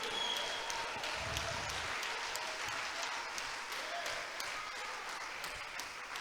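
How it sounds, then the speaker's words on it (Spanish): A church congregation gives a soft, distant round of applause after a sermon about God. The clapping holds at an even level under a faint hum. "Y regálale un aplauso."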